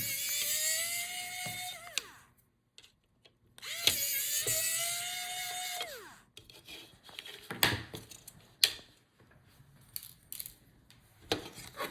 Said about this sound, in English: So to take out the opposite fan, unscrew the screws on the top.